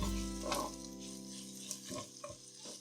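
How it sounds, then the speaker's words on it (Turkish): Tomato-pepper paste stirred together with eggplant and peppers in a pan, giving a soft, steady sizzle with a few scraping stir strokes near the end. "Şimdi salçamı da şöyle bir karıştırıyorum patlıcan ve biberlerimle birlikte"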